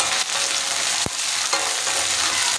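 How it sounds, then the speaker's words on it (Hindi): Potatoes and browned onions fry in a pan, a steady close sizzle with one sharp clatter of a spoon or spatula stirring partway through. "अब आलू फ्राई कर रहे हैं"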